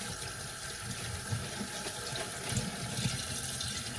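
Tap water runs steadily into a sink, rinsing foam off, a continuous close splashing flow with no talking.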